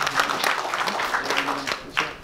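Applause from an audience for the North Sumatra team at an anti-drug outreach event, a dense patter of clapping across the whole short stretch with a voice faintly underneath.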